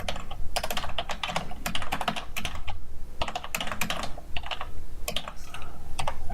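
Someone types HTML table code on a computer keyboard: rapid, close key clatter arriving in quick bursts with brief pauses, no voices.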